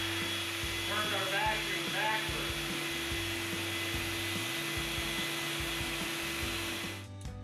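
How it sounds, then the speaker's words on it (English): Shop vacuum run in reverse as a blower, clearing metal shavings off an unpainted Mustang hood with a hood scoop installed; a loud, steady rushing airflow that holds for about seven seconds before cutting off near the end. "we're going to blow it off just to make double sure. Turned"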